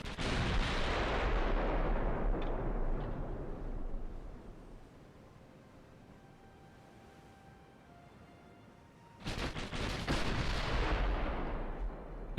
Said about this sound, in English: The sheer volume of fire will eventually score hits.